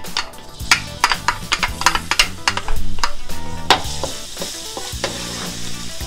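Garlic hitting hot oil in a skillet for shrimp chow mein, a crackling sizzle punctuated by loud, rapid clanks and taps of a utensil against the pan, building to a burst of spatter midway.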